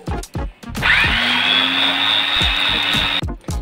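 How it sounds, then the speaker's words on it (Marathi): A kitchen mixer grinder blends watermelon slices with milk and powdered sugar, giving a loud, steady high whir for a few seconds that starts and stops abruptly, with brief voices just before and after. "आता हे मी जरा मिक्सरमधून बारीक करून घेणार"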